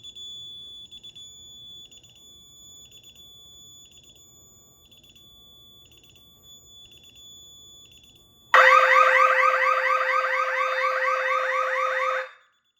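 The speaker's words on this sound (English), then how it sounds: "Now that the alarm has gone off" A DSC Neo security system alarm sounds loud and steady for about four seconds in a dense, pulsing tone, after a quieter stretch of faint repeated beeping.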